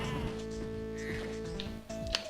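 Repeated sheep bleats in Spyro Season of Ice on the Game Boy Advance, a few short wavering calls over busy game music and effects, fairly quiet in the mix.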